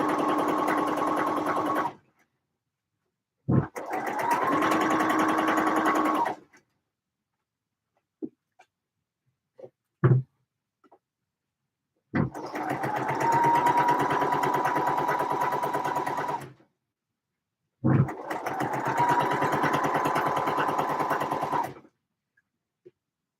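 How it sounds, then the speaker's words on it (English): A sewing machine stitches the center back seam of a garment in several loud, sustained runs separated by pauses, with a few brief clicks and knocks between bursts. "Just sewing up the center back seam."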